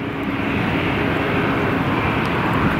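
Airliner jet engines spooling before takeoff at LAX, a loud, continuous broadband rumble and whine that holds steady throughout without any talk.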